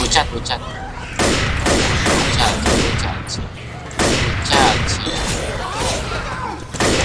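Sniper rifle shots crack loudly in Left 4 Dead amid game noise, coming as repeated sharp blasts with short breaks, while a player talks over the action.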